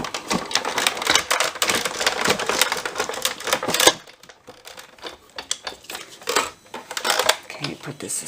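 Scissors snip a paper frame out of a handmade Christmas shadow box card, giving rapid close crisp cuts for about four seconds, then a few sparser snips and paper rustles.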